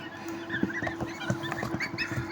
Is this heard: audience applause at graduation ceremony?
no